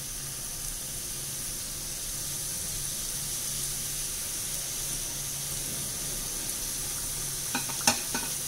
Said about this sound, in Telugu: నూనెలో వేసుకుంటున్నామండి సిమ్లో పెట్టి వేపుకున్నప్పుడు సిమ్లో పెట్టి వేపుకోవాలి మెల్లిమెల్లి వేపుకోవాలి